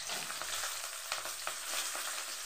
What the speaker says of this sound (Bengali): কাঁচা লঙ্কা, শুকনো লঙ্কা, তেজপাতা, এগুলোকে আমি সব ভেজে নেব।